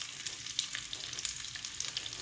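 Tortellini fry in a pan of sage butter, a soft crackling sizzle with scattered little pops and spits over a quiet, steady bed of frying noise.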